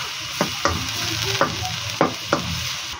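Chowpan fried rice with onions is stir-fried in a pan, with a constant sizzle broken by five sharp, rhythmic spatula scrapes and tosses, close and fairly loud.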